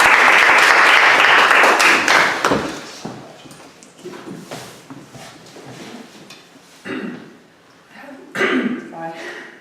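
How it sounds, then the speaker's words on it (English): A loud burst of audience applause for a speaker fills the opening seconds, then fades into scattered claps and room noise as a voice begins. "Can we please give her a round of applause?"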